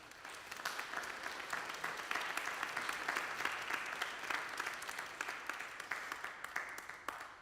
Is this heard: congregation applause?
yes